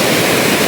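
Water roars down falls near Pariyur Amman temple in Gobichettipalayam, a loud, steady, close broadband rush with no pauses.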